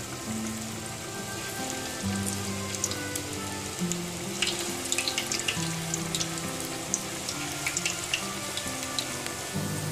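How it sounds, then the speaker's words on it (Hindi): Small pakoras frying in a pan of hot oil give a steady, dense crackle and bubbling sizzle with scattered sharp pops, fairly close and continuous throughout, no voices. "आफ्टर 10 मिनट्स ऑयल को हम अब गर्म कर लेंगे और उसके अंदर ये छोटे छोटे पकोड़े डालकर तल लेंगे।"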